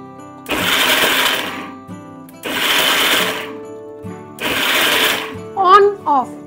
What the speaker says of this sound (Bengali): আপনার ব্লেন্ডার যদি 500, 750 ওয়াটেজের হয়, কিভাবে বানাবেন